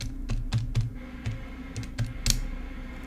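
Buttons pressed on a calculator to work out negative 169 divided by 13. The quick, close, uneven presses click and tap over a low background hum.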